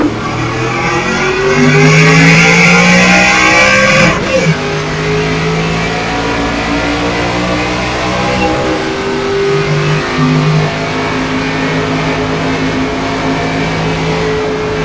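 A race car engine in the iRacing game, an ARCA car at Texas, revs loudly and continuously, pitch climbing and dropping through gear shifts, close and dominant with no other sounds.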